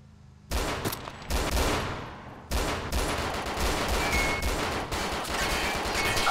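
Heavy gunfire in the DayZ Breaking Point video game during an attack on a Humvee: loud, dense automatic bursts and rapid shots that start abruptly and continue almost without pause after a brief break.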